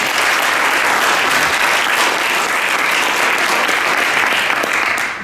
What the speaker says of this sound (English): Round of applause, please, for Andrew Gibson